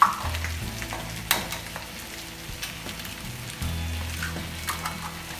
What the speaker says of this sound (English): the sauce is simmering now, and we actually put our basil pesto in drops in here